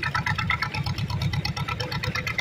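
A 1947 John Deere M tractor engine runs at a parade, a steady mid-pitched chugging with a regular pulsing rhythm, fairly close and continuous throughout.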